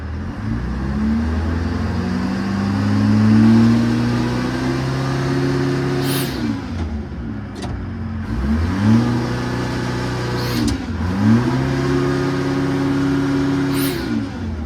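A Detroit 4-53 diesel engine powering a crane runs steadily as the machine drives forward, rising and falling in pitch through several revs, loud and close.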